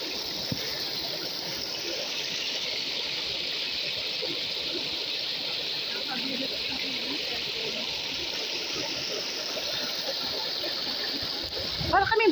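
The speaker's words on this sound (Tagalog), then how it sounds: "Para kaming bata, naglalaro ng tubig." People playing in water in a garden setting, with steady rushing, splashing water filling the scene, faint voices underneath and a louder splash at the end.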